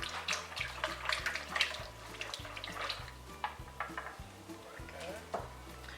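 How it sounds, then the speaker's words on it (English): Cranberry and fig soap batter stirred in a container: soft, steady scraping and sloshing close by, with faint background sounds underneath. "I'll give it a good stir first."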